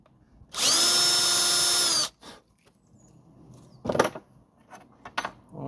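A power drill bores a 9mm hole, whining loudly in one sustained burst of about a second and a half, followed by a few quieter clunks and knocks of tools and parts being handled.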